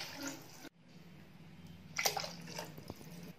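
Water poured into a cooking pan of sautéed potato and green pea biryani base, a short steady splashing pour near the microphone with no talk.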